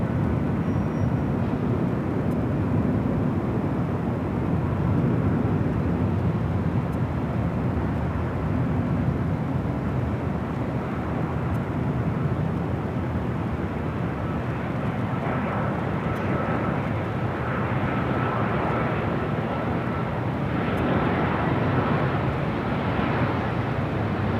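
An airliner at Los Angeles LAX airport rumbles with a loud, sustained engine roar from a runway, broad and unbroken for the whole span with no talk.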